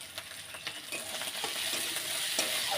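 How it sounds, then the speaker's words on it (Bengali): Onion, ginger and garlic fry in a pan, giving a close, steady sizzle broken by scraping stirring strokes that grows slightly louder toward the end. "পেঁয়াজটা লাল করে ভেজে নিয়েছি আর আদা রসুনটা দিয়ে দেবো"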